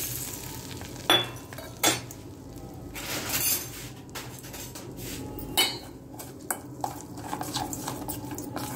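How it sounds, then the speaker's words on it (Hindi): Spicy masala with melted butter is stirred in a pan, with a spoon scraping and clinking against the metal in uneven strokes over a soft sizzle, close and moderately loud, with no talk. "अब इस मसाले में हम सब मिला दे रहे हैं।"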